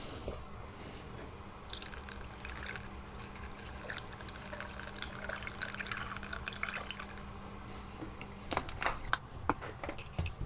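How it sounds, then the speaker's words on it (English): Coolant poured into a motorcycle's coolant reservoir, a soft steady trickle of liquid with a few louder drips and splashes toward the end, close and quiet. "I can fill this up with coolant"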